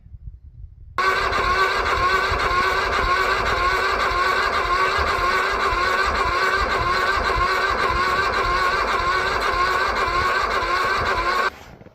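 Cold, stubborn lawnmower engine cranked by a 12-volt starter wired straight to two worn car batteries, a steady loud droning whir that holds evenly for about ten seconds before cutting off abruptly.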